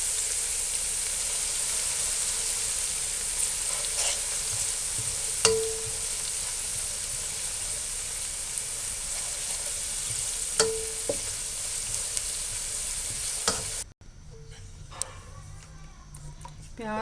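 Onion with garlic-ginger paste frying in a pan for vegetable rice, a constant loud sizzle with occasional clicks and scrapes of stirring, the sizzle dropping away sharply near the end.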